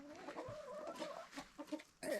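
Chickens cluck steadily in a homestead coop in Southeast Alaska, several birds overlapping in a close, continuous chatter, with a louder burst of clucking near the end.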